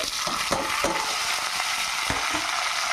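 Three onions, green chillies and two tomatoes frying in a pan for chicken biryani, a steady hissing sizzle broken by several sharp spatula knocks, close and unaccompanied by speech.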